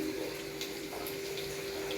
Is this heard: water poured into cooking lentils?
yes